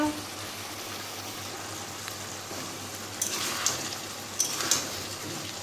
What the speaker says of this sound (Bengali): মাংস কষা হচ্ছে, আর এখানে রয়েছে ভাজা আলু